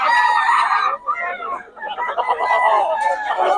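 Rooster crowing in Bocaue, two loud, close drawn-out calls with a short break between them, with clucking fowl around.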